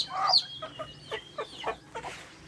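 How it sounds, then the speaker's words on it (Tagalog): A chicken clucks several times close by, short repeated calls in a loose rhythm with a sharper cry at the start. "ito yung manok natin"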